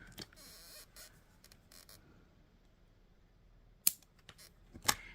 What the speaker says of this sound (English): we want to trim our extra wire off here.